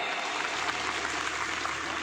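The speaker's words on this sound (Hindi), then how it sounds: "इन तमाम पुलिसकर्मियों के लिए जोरदार तालियां बजाइए एक बार" Loud, dense applause from an outdoor crowd at a Rana Puja Bhil Jayanti festival gathering, honoring police officers, a steady wash of clapping filling the whole stretch.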